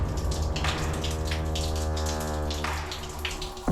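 Rainwater runs and drips steadily inside a Shiva temple, pouring over the main Shiva lingam from collecting pools in a continuous close gushing flow without voices.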